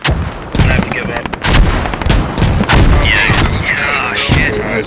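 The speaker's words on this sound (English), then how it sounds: "As the artillery is continuing," Artillery fire and explosions boom in a grenade launcher video game, a rapid series of loud, sharp blasts and cracks at the start, followed by a sustained heavy rumble of continuing fire.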